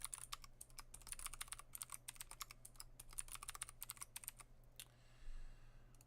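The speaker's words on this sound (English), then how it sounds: "I almost typed in ad guard." Quick, fairly quiet clicking of keys on a computer keyboard, close and irregular in bursts over a low electrical hum, stopping shortly before the end.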